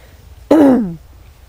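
A single short, harsh throat clearing, close and fairly loud, lasting about half a second against a quiet background.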